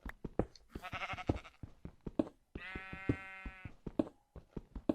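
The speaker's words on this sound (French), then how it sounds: "on va faire cuire le mouton tout autour de nous" Sheep in a video game bleat in two long, wavering calls amid a steady series of sharp tapping and clicking sounds, close and fairly loud, with no talking.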